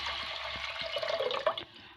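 Water being poured into a pressure cooker holding roasted horse gram and tomato for rasam, a steady close splashing and trickling pour for about two seconds, tapering off near the end.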